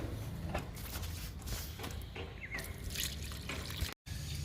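Liquid fertilizer poured onto a bushy, healthy potted plant: a soft, continuous trickle and splash of liquid, faint and close, with no talking.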